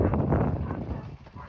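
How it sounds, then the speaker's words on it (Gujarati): A German Shepherd barks and whimpers in short, repeated bursts, fairly close and loud, tapering off toward the end. "જર્મન શેફર્ડ બંધ નથી થતું"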